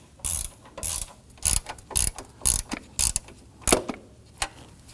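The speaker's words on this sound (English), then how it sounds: "let's go ahead and switch over to a hand tool when tightening these down" A hand ratchet tightens the battery hold-down on a 2015-2024 Nissan Murano, giving a series of about nine sharp, close ratcheting clicks in a quick, slightly uneven rhythm with brief pauses between strokes.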